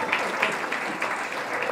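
Wedding guests applauding in a hall, a steady patter of many hands clapping at moderate volume throughout, with faint voices underneath.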